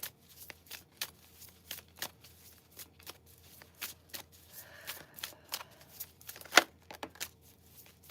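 Tarot cards shuffled by hand during a psychic reading, a steady run of soft riffling flicks and slaps repeating roughly every half second, close and fairly quiet, with one sharper snap near the end.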